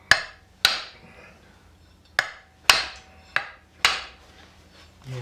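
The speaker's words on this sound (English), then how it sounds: "I'm going to try hitting it with a hammer." Hammer blows on the viscous fan coupling of a Series Land Rover under restoration, six sharp metallic strikes at irregular intervals, close and fairly loud against a quiet workshop background.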